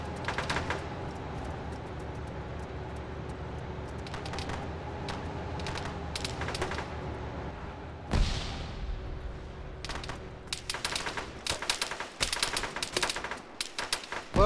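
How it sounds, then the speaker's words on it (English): Gunfire in Arma during a ShackTac squad operation, with rapid automatic bursts and single shots. Steady background hum runs underneath, a heavy boom lands midway, and dense close volleys build toward the end. "Taking fire from the southwest"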